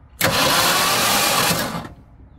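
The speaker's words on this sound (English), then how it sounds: "Good news is the motor's turning over." The engine of an abandoned Ford F350 U-Haul rental truck cranks over in one loud, steady whirring burst of nearly two seconds that stops without catching.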